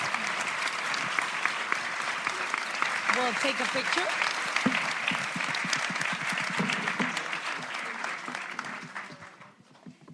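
Conference audience applauding, dense sustained clapping that fills most of the clip before thinning out near the end, with a voice speaking over it.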